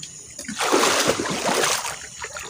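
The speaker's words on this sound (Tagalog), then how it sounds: "Malakas pa rin yung tubig." Strong, brownish river water rushes and splashes nearby in a steady loud wash that swells and holds for a couple of seconds.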